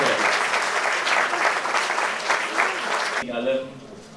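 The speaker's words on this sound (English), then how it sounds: "with a huge round of applause" Audience at a management institute event in an auditorium claps in a loud, steady round of applause that stops abruptly near the end, leaving faint room noise.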